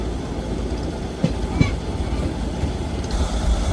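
Train 14735 Ambala Cantt Express, running from Sri Ganganagar, rolls into Dablan station with a steady loud rumble of rail cars and a couple of brief clanks, close and continuous.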